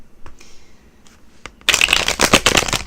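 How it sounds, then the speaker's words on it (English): A few light taps and rustles, then a burst of rapid riffling as a deck of cards is shuffled close by. "shuffling cards to me is like ASMR"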